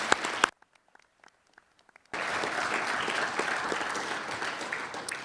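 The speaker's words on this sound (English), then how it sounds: "So we are really ready now for a round of applause for everybody today" Conference audience applause at closing remarks: a brief burst of clapping cuts off into near-silence with faint scattered claps, then loud sustained applause resumes and continues to the end.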